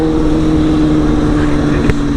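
A Kawasaki ZX inline-four 636cc motorcycle engine running steadily at a low, even idle-like drone, close and loud, with a brief sharper blip near the end and no talking.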